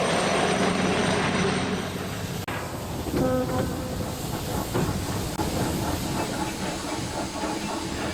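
A steam train engine rumbles and hisses steadily in a Thomas-style toy train story, with a short whistle tone sounding partway through over the continuous chugging noise.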